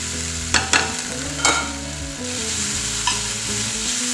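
Poha and cashews roasting in ghee in a pan give a steady sizzle with a few sharp spoon clinks and scrapes. Low tonal music-like hum runs underneath throughout, and nobody speaks.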